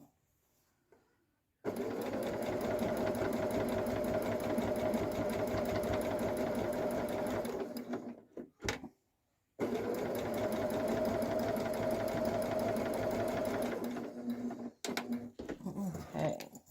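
A sewing machine stitches a patchwork zipper pouch in two long, loud runs of steady rapid whirring, each about six seconds, split by a short pause, with brief clicks and fabric handling near the end.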